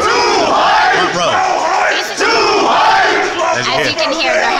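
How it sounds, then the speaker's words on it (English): A large crowd at an E3 event stage cheers and yells in a loud, sustained roar, with whoops and shouts rising over the dense wall of voices and scarcely dipping. "as you can hear, they're hyping up the Crowd's getting crunk"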